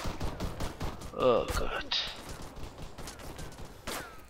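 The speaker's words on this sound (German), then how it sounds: "Woher kommen die Schüsse?" Rapid bursts of gunfire from the video game ArmA 3 crackle in a quick series under a man's speech, with a louder sweep and clatter partway through.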